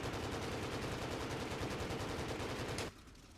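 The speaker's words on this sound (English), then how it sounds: "The cannons are now ready to fire" Rapid, continuous cannon fire from a Corsair FG-1D in Microsoft Flight Simulator roars in a dense, mechanical stream for nearly three seconds, then cuts off abruptly, leaving a low hum.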